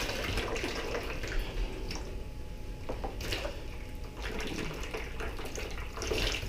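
Fluval 306 canister filter pads are washed under running water, giving a steady, close rushing splash with uneven sloshing and dripping surges as the pads are rinsed and squeezed, with no talk over it.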